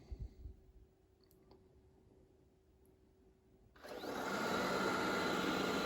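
A Shark IQ robot vacuum switches on at high suction partway through, its loud, steady broadband whir starting abruptly after a few seconds of quiet room noise and holding to the end.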